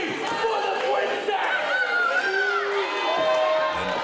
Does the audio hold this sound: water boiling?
no